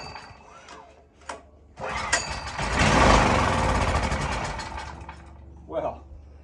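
An old petrol generator engine gets a pull on its starter cord with the choke on, then fires and runs loudly for a few seconds before dying down, with a voice speaking over it.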